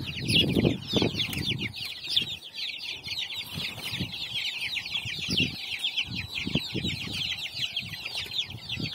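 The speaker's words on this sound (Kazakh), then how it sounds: "Мынау күрк тауықтың балапандары." Turkey chicks on a poultry farm give a dense, steady stream of high peeping chirps, with a few lower clucks and scuffling bursts underneath, close and continuous.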